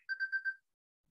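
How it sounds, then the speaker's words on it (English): Telephone ringing in a room during an online QuickBooks class, four quick electronic trill pulses in one burst, moderately faint and with no speech, then silence. "I don't know if you hear the phone"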